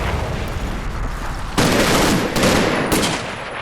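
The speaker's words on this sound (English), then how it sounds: "The machine gun opens fire, but it doesn't cause any immediate casualties." A machine gun position opens fire in the Combat Mission: Red Thunder war game, a dense rattling burst of automatic fire with booming reports over steady battlefield noise, loud and without talk.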